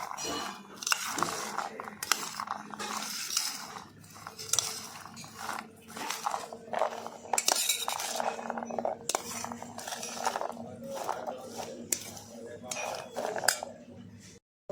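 A spoon stirs chickpea chaat dressed with lemon juice in a bowl, making repeated light clinks and scraping taps against the dish while a person talks throughout.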